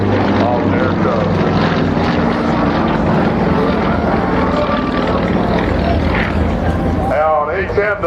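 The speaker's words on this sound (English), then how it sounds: "As both airplanes simultaneously change direction." Propeller aerobatic airplanes fly at an air show, a loud continuous engine drone and whine that fills the clip, with a shifting pitch sweep near the end as they change direction.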